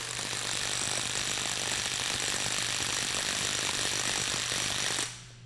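A Harbor Freight Hercules brushless impact wrench tightening a fastener, a loud, close, continuous rapid hammering rattle over a low mechanical hum for about five seconds before it cuts off abruptly.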